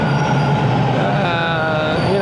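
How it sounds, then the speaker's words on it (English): A Toronto TTC subway train pulls into a station, a loud steady rumble with rising metallic squeal from the wheels, close and filling the whole moment. "Train's coming on that side."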